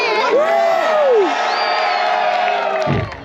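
Spectators at a lumberjack show on Grouse Mountain in Vancouver cheer and whoop for lumberjack Willie, a loud mix of shouting voices, some high like children's, that fades near the end.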